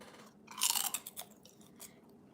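Crunchy, slightly spicy pork rinds being chewed close up, a burst of loud crisp crunches that thins into softer, scattered bites, with no talking.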